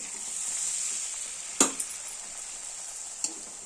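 Puri frying in hot oil, a steady bright sizzle running throughout with a couple of sharper crackling bursts as dough drops in, close and fairly loud with no talking.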